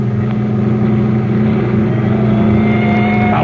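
A getaway car's engine accelerating in a radio drama chase, a loud continuous roar that climbs in pitch toward the end, with no voices over it.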